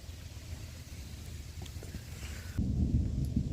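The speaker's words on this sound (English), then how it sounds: "The thunder sounds awesome in the background right now." Deep thunder rumbles low and steady beneath an overnight thunderstorm at a hillside campsite, growing louder and heavier toward the end with no voices present.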